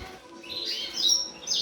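Colour canaries in a breeding bird room give bright, high chirps and short warbling phrases, several calls overlapping at moderate loudness over faint background hum.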